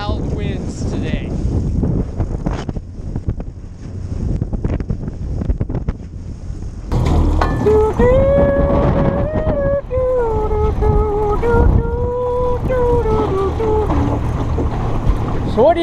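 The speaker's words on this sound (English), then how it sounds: "Wildwood has turned into wild winds today." Strong gusty wind buffeting a microphone on a lake during boat fishing, a loud rushing roar, with people talking and then singing over it.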